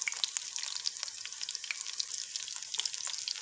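Potato chapli kababs fry gently in a pan over a low flame, giving a steady close-up sizzle with small crackles and pops throughout.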